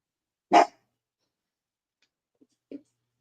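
A dog gives one sharp, close bark indoors, followed after a pause by a faint short yip and a second quieter bark.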